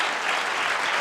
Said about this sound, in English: So let's start with a round of applause for these alum.